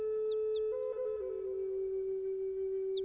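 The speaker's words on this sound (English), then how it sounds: "Is that a bird?" A small bird chirps with a few thin, high, quick tweets spread over a steady low hum, faint to moderate and slightly distant.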